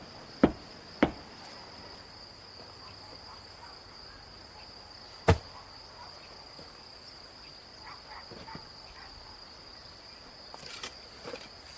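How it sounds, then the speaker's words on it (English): A few sharp, isolated taps of a hammer on a chisel shaping rough stone ring out against a steady insect drone, with a faint double tap near the end. "The hammer taps, shaping the rough stone by hand."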